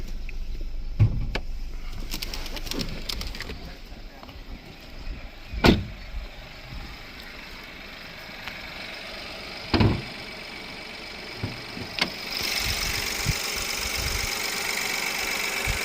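A 2018 Volkswagen Polo 1.0 TSI engine idles steadily at close range, a low continuous rumble with a few brief knocks and clicks, no talking.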